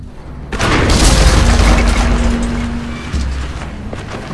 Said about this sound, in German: Von wo schießen die denn?